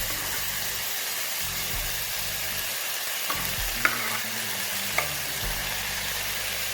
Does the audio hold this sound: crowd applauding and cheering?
no